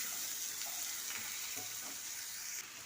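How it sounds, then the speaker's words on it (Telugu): Onions, tomatoes and potatoes sizzle steadily in a hot pan for an egg, potato and tomato curry, with a close, even frying hiss and faint stirring clicks throughout. "టమాటా, బంగాళాదుంపలు ఈ ఉల్లిపాయలని వేయించుకోవాలి."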